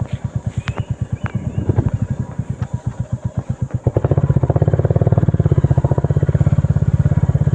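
A motorcycle engine thumps steadily while riding, a close, loud pulsing exhaust beat that quickens and grows denser as the rider accelerates partway through.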